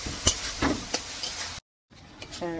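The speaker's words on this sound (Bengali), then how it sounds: "পেঁয়াজ রসুন আদা রসুন সব গন্ধটা যতক্ষণ না যাবে ততক্ষণ ভাজতে হবে" Onion, garlic and ginger paste sizzling in a pan while being stirred, soft crackle with scraping strokes, broken by a brief silent gap.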